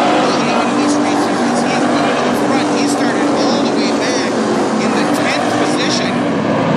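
Street stock race cars circle a dirt speedway with engines roaring in a dense, continuous drone, a commentator talking over the track noise throughout.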